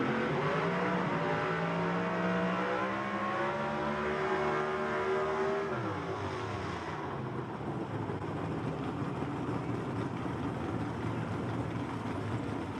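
A 1937 Chevy gasser roars down the drag strip at a Southeast Gassers Association event at Knoxville Dragway, its loud engine note climbing through the gears and then fading as the car pulls away, with steady track noise and no talk.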